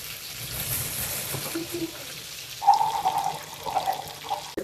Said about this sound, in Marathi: he surmai fry